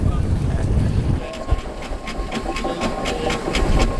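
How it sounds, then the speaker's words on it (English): A heavy steam ploughing engine ticks over at a steady idle at a ploughing match, with regular soft puffs and clanks against outdoor wind rumble. "As the engine at the far end of the field pulls the plough back, this one just idles"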